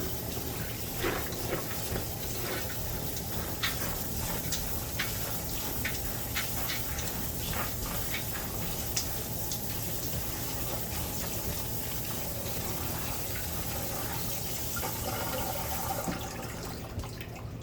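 Steady rushing of water from a tap gushing into a bowl while almonds are washed, a continuous close splashing flow with faint clinks, without speech.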